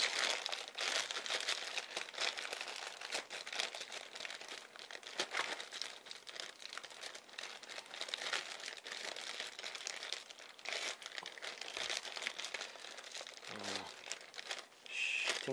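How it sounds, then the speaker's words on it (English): Ordinary plastic bag packaging around a set of speakers is crumpled and pulled open. Continuous close-up crinkling and rustling goes on throughout, with a short squeak near the end. "Not a special kind of packaging, it's just a normal plastic bag."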